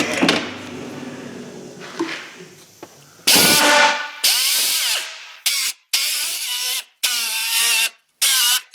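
Power tool cleaning rust off a Subaru rear wheel bearing hub, loud bursts of high whining grinding that start and stop repeatedly after some clattering handling noise.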